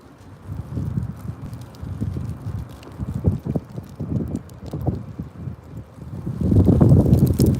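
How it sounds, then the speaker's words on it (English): Gusty wind buffets the microphone outdoors, a steady low roar with uneven surges that swell louder near the end. "It's getting real windy out here."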